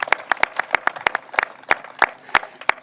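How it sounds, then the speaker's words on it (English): Scattered audience clapping honors the state DEC commissioner at a Long Island brown tide funding event, with sharp individual claps landing in an uneven rhythm at fairly close range. "So give him a round of applause."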